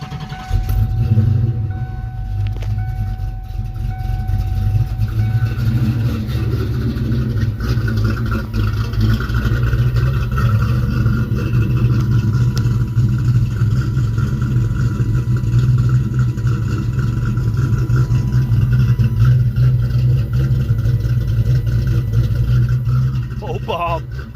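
A 1992 Ford Mustang GT V8 with aluminum heads and an aggressive cam runs steadily and loudly at its first start, a continuous rumbling idle throughout with occasional voices over it.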